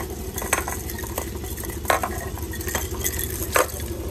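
An Amazon parrot knocks a bowl toy down, making a few sharp clattering knocks and scrapes spread across several seconds over a steady low background hum, with no talking.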